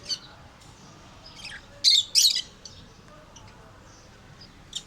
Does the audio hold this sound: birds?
yes